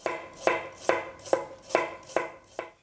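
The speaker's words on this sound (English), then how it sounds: "to chopping like this" A chef's knife chops steadily on a cutting board, seven sharp even strikes about half a second apart, close and crisp with no talk.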